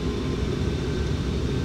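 A simulated aircraft engine in Microsoft Flight Simulator X throttles up for takeoff, giving a steady, loud, broadband roar that holds constant throughout with no talking.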